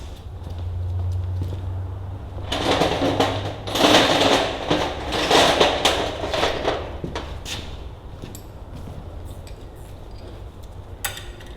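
Metal linkage being removed from a Ferguson TEA 20 tractor: close clinks, knocks and scraping of parts, busiest in the middle, over a steady low hum, with a few sharp clicks toward the end.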